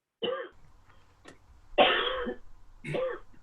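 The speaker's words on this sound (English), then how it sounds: "Someone's coughing." A person gives three separate coughs, short throaty bursts spaced about a second apart, fairly close in an otherwise quiet room.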